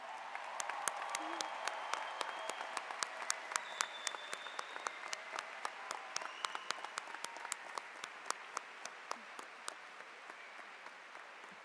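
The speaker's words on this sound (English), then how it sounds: "please stand so that we can applaud the strong relationships you built." A large graduation audience at South Forsyth High School applauds the faculty and staff, producing sustained, even clapping with sharp individual claps standing out, heard from a distance and fairly faint, with a faint voice underneath.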